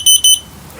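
A gas detector by a large Atomstove tent stove beeps twice, two loud shrill electronic pulses in quick succession, followed by quiet room noise.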